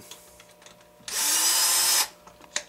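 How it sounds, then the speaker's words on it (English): An electric screwdriver backs screws out of an HPI Baja SS RC car, a single steady whirring run of about a second, close and fairly loud, with faint handling noises before and after. "Let's go ahead and see if I can get them out with my wrench, my electric screwdriver now."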